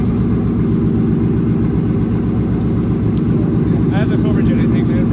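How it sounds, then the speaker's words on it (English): Ford Mustang engine idling at a busy car meet, a loud, close, steady low rumble with a lumpy pulsing beat, a faint high chirp near the end. "Listen to that idle, guys. That's the way Mustangs should fucking sound"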